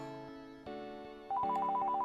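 Electronic telephone ring tone from the SNES game Vegas Stakes, a steady synthesized tone that shifts upward then settles into a rapid warbling two-note trill, loud and alone.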